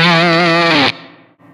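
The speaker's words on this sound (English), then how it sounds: "There's a reverb trail right there." A fuzz pedal on electric guitar rings out a loud, distorted sustained chord for under a second, then cuts off, leaving a long, fading reverb tail that briefly dips before trailing on.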